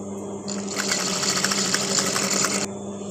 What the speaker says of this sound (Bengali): লম্বা করে একটা সেলাই দিয়ে নেব লাস্ট পর্যন্ত